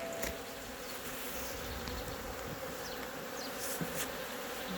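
Honeybees buzz in a steady, dense drone around an open hive during an inspection of a weak colony reduced to three frames after mite damage, close and continuous.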